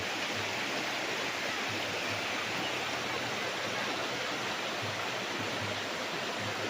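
Continuous rushing of a flowing river in Liliw, Laguna, a steady broadband wash without pauses, fairly close and even in loudness.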